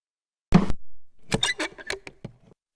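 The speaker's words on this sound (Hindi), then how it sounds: "बाहर कोई दरवाजा खटखटा रहा है" Knocking on a door, heard as a sharp single rap followed by a quick run of uneven knocks, close and fairly loud, in an indoor movie scene.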